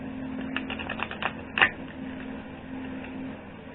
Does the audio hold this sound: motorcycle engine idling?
no